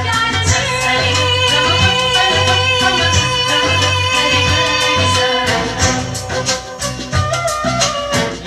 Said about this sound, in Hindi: आवाज जो सुन रहे हैं दोस्तों वो कैसेट की आवाज है, देख सकते हैं।